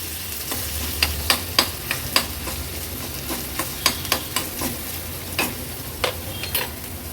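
Onion frying in oil in a pan: a continuous sizzle broken by irregular clicks and scrapes of a stirring spoon against the pan, close and moderately loud.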